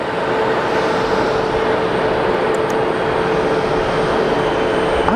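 A Boeing 737 at Geneva Airport produces a loud, steady jet roar with a sustained broadband rumble and a faint whine, heard from a moderate distance with no talk.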